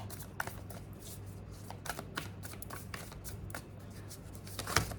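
Tarot cards are shuffled by hand close up, a quiet run of soft riffling flicks and taps with a low steady hum underneath and a sharper snap near the end.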